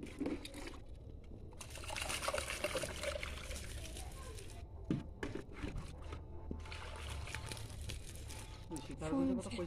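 Plants are watered, giving a splashing, trickling pour in uneven bursts, close and fairly loud, with background talk around it.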